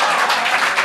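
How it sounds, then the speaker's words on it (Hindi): Clapping from an audience, a brief dense burst of many hands heard close and loud with no voice over it. "ये जो तालियां बज रही हैं टीआरडी के लिए"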